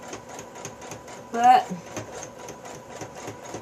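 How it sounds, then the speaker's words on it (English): A sewing machine stitching quilt pieces for a newspaper quilt runs with a steady, fast rhythmic clatter that continues throughout, and someone briefly speaks over it. "I don't know if you can see me at my sewing machine or not."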